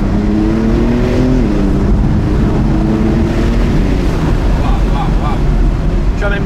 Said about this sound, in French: heureusement qu'elle a l'échappement sport, parce que là en valve ouverte, ça fait du bruit